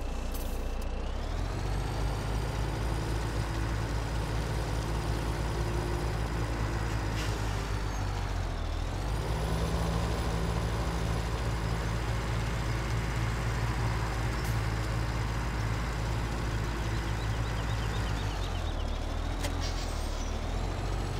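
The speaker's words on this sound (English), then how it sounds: "Let me try this truck. Another stock in-game truck." A stock truck in the Farming Simulator 17 video game drones with a steady engine hum, and an air-brake hiss and a sweep of the engine note come twice, all alone without talk.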